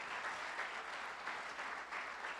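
Congregation applause inside a church gathering, a continuous even wash of many hands clapping at moderate, slightly distant level with gentle swells, no voices over it.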